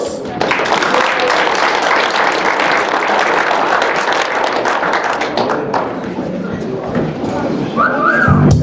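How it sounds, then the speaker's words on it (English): Wedding guests give the bride and groom a loud, dense round of applause at the reception, continuous close clapping with scattered whoops throughout. "Give them a round of applause"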